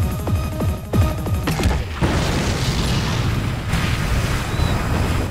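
A loud, deep cannon blast booms in the Streets of Rage 4 video game, erupting suddenly after a stretch of game music and leaving a long, rumbling roar that fills the rest of the moment.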